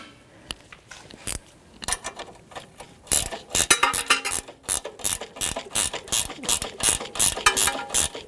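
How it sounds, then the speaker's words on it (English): A 15mm ratchet wrench clicks in quick, irregular bursts as it turns a front strut nut on a 2007-2017 Jeep Patriot 2.4L, the sharp pawl ticks close and loud, growing denser after a slow start. "Now I'm going to get a ratchet wrench, 15mm."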